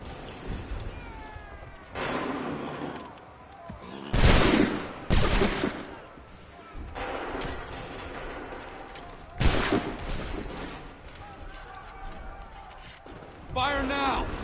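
Musket volley fired on command in Assassin's Creed 3 Remastered on PS5, several sharp loud cracks of gunfire a few seconds apart, mixed with shouted orders and game noise.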